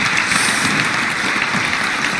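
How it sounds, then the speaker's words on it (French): Dense, loud applause from an event audience greeting an honoured guest, continuous clapping from many hands with no break across the moment. "Mais oui, vous pouvez applaudir"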